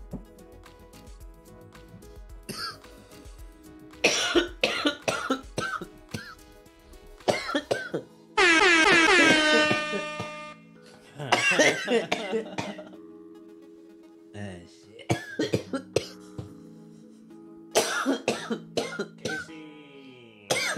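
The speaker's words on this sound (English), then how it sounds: "My bad for all the coughing." Repeated bursts of coughing and throat clearing from one person, close and loud, spread across the clip with short gaps and brief talking between fits.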